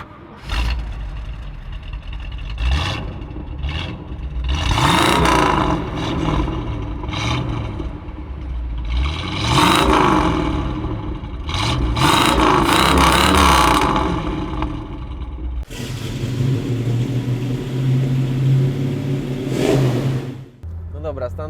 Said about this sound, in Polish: żebyście mieli okazję posłuchać jak działa klasyczny e, wydech Mustangu z 390